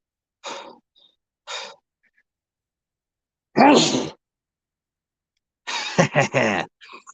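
A few breathy gasps and inhalations, then a sharp, loud sneeze-like burst, followed by another short series of explosive sounds, close by with silence between.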